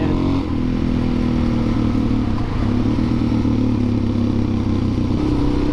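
A Honda CRF250L Rally dual-sport motorcycle engine runs steadily and loud up close, a continuous mid-pitched drone with a slight rumble and no talking.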